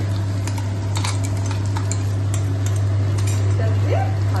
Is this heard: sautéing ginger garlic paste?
yes